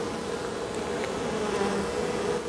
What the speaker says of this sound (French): alors c'est un essaim, j'aurais dû transvaser déjà depuis un moment